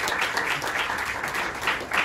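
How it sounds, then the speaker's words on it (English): Audience applause at a town alumni party, a steady wash of many hands clapping with brief swells, fairly close and continuous throughout. "Let's give them a round of applause."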